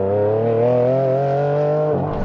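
A Ferrari Enzo accelerates in third gear from around 50, its engine note climbing steadily in a loud, close, harmonic-rich howl, then shifting abruptly near the end with no voices present.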